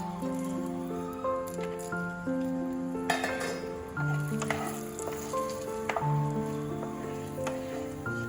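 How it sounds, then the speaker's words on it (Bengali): Cashew nuts fry in hot oil with bay leaves and whole spices in a pan, a soft continuous sizzle with occasional pops beneath background music. "কাজু বাদামগুলো একটু হালকা করে ভেজে নিয়ে গন্ধটা ছেড়ে গেছে"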